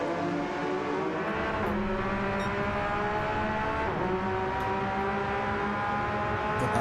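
A Porsche race car's engine accelerates hard around the Nürburgring Nordschleife in a racing video game, a loud, sustained whine with rising pitch sweeps that holds close and steady for the whole stretch.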